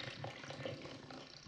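Toilet being flushed in the survival horror game Resident Evil 7, a steady close rush of running water for the whole stretch with no talking.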